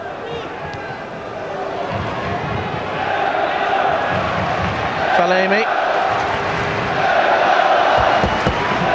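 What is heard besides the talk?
stadium football crowd cheering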